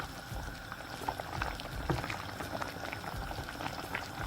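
Coucou, a cornmeal dish, bubbles softly in a pot on a kitchen stove. Faint irregular pops and gurgles continue throughout, heard alone without speech.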